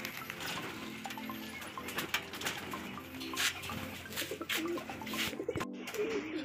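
Pigeons coo repeatedly at a loft in the afternoon, a steady layer of soft throaty calls with light fluttering and patter, no talking over it.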